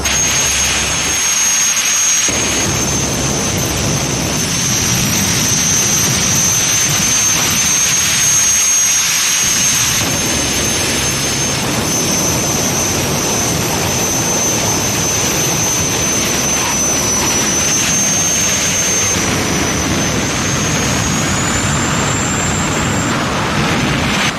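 A jet funny car's turbine engine roars at a drag race, a loud, sustained blast with a high piercing whine running across the whole stretch and slight dips in the low rumble.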